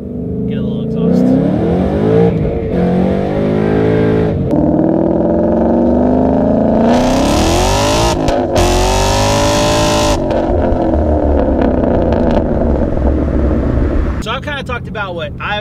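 A loud car engine revs up and down repeatedly, the exhaust roaring close by with rising and falling pitch, two sharp blips near the middle.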